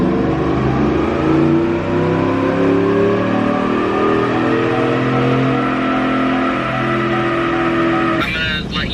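A Chevrolet Silverado truck accelerating on a chassis dyno, its engine holding a steady loud drone with rising harmonics for most of the run, then cutting off abruptly near the end.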